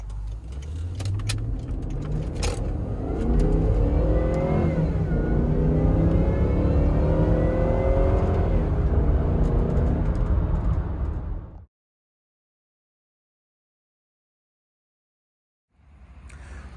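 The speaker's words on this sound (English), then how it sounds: "So let's fire it up, take it for a spin, and see if it really lives up to the hype of the supercharged motor." A supercharged 2006 Range Rover L322 engine fires up and pulls away with a loud, close rumble that rises and falls for about twelve seconds. Silence follows, then the engine noise returns briefly.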